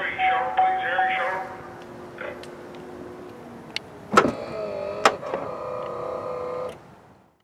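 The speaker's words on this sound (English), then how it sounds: "to close the trunk, you could either close it manually if you want over here, or press this button and it'll go right on down" A 2019 Chevy Blazer RS power liftgate closes with a steady electric motor whine and hum, ending in a sharp latch thunk and a few clicks. A voice talks briefly over the start, and the sound is close and moderately loud.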